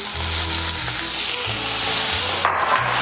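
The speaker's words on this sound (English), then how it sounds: "Oh, hear that sizzle." Garlic, cilantro, jalapeños and shrimp sizzle steadily in a hot pan, a continuous close frying hiss with a few low scraping stirs, and no one speaking.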